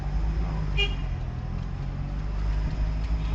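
A car's engine hums steadily as it drives straight during a driving lesson in Sylhet, a low even drone with a brief horn toot early on.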